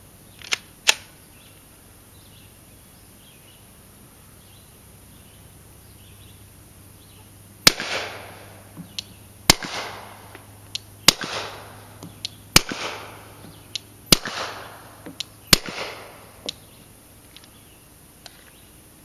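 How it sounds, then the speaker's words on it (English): Glock 17 pistol fired through a dry Gemtech Tundra suppressor: a few sharp reports early, then a string of about seven suppressed shots at irregular intervals, each a loud crack with a short decaying tail, no talking. "we're going to use a Glock 17 and a Gemtech Tundra sound suppressor."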